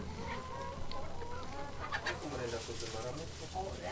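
Chickens cluck and murmur in a noisy farmyard in Rwanda, with other birds and faint voices in the background.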